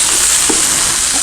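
Beef for Chinese restaurant-style pepper steak sizzles in a frying pan, giving a loud, steady hiss that runs unbroken from start to finish.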